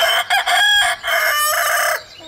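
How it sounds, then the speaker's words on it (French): A domestic rooster crows loudly and close by, a single drawn-out, broken cock-a-doodle-doo lasting about two seconds, with no talk over it. "c'est le chant du coq qui souvent agace"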